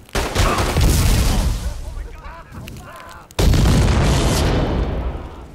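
A bomb goes off in the video game Godfather 2, a loud roaring blast that rumbles on, then a second heavy boom hits and lingers amid game noise.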